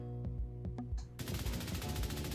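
Automatic rifle fire in The Division 2 during a recoil test. A few separate loud shots come first, then about a second of rapid, sustained full-auto bursts.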